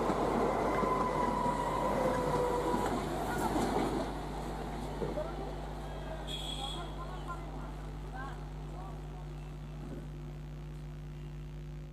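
Indian high-speed MEMU electric multiple unit train rumbling past, loud and continuous at first with a steady low hum, then fading to a quieter drone with faint clanks; voices talk over it.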